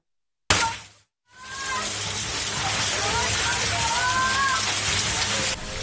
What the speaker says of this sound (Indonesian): butiran-butiran es berukuran cukup besar menimpa atap rumah dan mobil yang terparkir di halaman